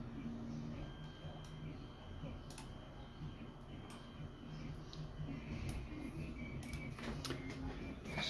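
A 3D printer prints a small part for a homemade metal detecting digging tool, making faint whirring and quick ticking moves in irregular bursts over a steady background hum.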